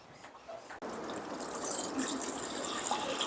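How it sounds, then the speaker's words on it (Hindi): Tap water gushes steadily into a container, filling a baby's bath that will get raw milk and rose petals. A brief faint rustle comes first, then a continuous close splashing stream. "तो ये रेडी हो रहा है कान्हा के स्नान करने के लिए पानी।"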